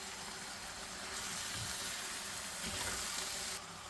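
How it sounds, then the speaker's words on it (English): Cooked squid lands in frying ginger garlic paste, giving a steady, close sizzle with a slight swell as the pieces hit the hot pan and a few soft stirring scrapes. "We're adding in the cooked squid."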